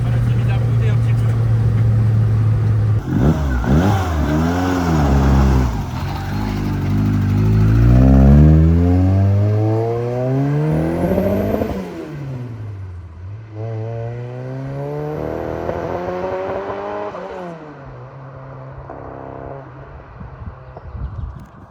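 A Ford Sierra Cosworth engine is revved repeatedly, its pitch sweeping up and down in several loud climbs and drops, with slight ignition misfires stuttering through the revs and a falling idle between pulls.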